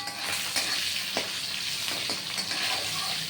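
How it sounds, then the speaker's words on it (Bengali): Potato pieces fry in a hot pan with a sprinkle of turmeric, giving a dense, continuous sizzle with occasional sharper crackles and pops, close and alone without voices. "এই যে আলুটা ভাজা ভাজা হচ্ছে"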